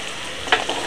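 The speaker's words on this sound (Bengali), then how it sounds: "বড়ি ভাজা তেলের মধ্যে দিয়ে দেবো আগে থেকে আলু কেটে রেখেছি ছোটো ছোটো করে।" Small cut potato pieces fry in oil, a soft sizzle with one brief louder scrape or spatter of stirring partway through.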